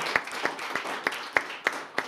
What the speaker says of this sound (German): Ich hoffe, dieser Applaus ist wenigstens eine kleine Entschädigung für das, was Sie im letzten Jahr vermissen mussten